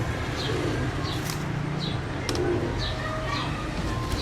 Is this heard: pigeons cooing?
yes